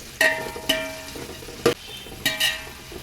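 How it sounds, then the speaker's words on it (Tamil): Onions sauté in a pan for chicken biryani, with a few sharp stirring scrapes over a soft background sizzle, close and fairly quiet. "நல்லா பொன்னிறமாக ஆகிற வரைக்கும் வதக்கணும்"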